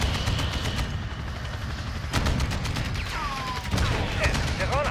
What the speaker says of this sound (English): You're taking fire.